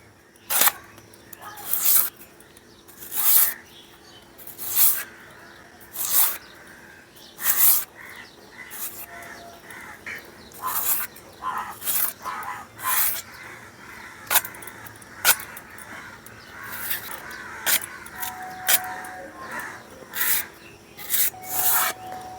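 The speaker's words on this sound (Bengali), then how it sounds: "বন্ধুরা, আমি তো এখন কচু শাকটা কাটছি" Taro leaves being cut by hand for cooking, a series of sharp, crisp slicing and rustling bursts repeating in an uneven rhythm, close and fairly loud.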